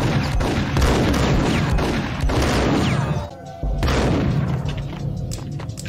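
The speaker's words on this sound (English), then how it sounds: "I love how this gun shakes the camera." A heavy gun fired in the Max Payne shooter, booming shots one after another with deep thuds and crashing echoes, a brief lull, then more blasts, with no speech over them.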